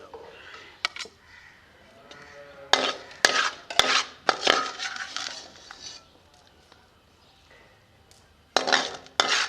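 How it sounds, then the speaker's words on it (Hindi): Cooked keema is spooned from a metal kadai into a vessel, with bursts of scraping and clinking of a spoon against metal between quiet pauses, close and fairly loud. "कीमे को एक बर्तन में निकाल लेंगे।"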